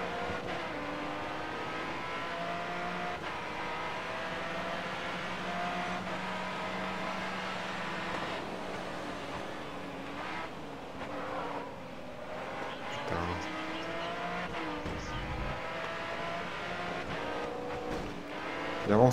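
Race cars in the racing game GRID Autosport on Switch drone and rev steadily through the whole stretch, with engine pitch rising and falling as cars jostle, while a voice talks over the game sound.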